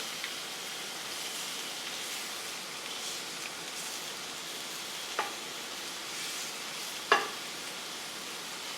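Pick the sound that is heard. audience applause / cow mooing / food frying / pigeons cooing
food frying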